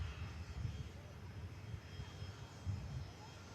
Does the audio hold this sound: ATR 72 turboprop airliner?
yes